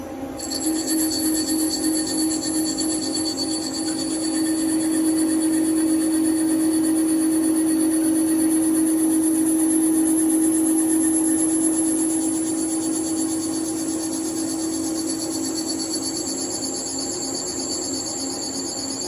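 A Nakamura CNC turning center cuts a part, taking a sixteenth of an inch off per pass. A steady, close machine whine with sustained tonal hum runs unbroken for the whole stretch, with no talking.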